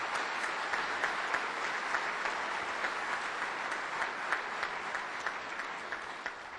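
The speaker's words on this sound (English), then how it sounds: "why don't we give Ray a round of applause for his years of work." A conference audience applauds a retiring colleague named Ray Bridge, steady, dense clapping from many hands that holds at an even level throughout without pause.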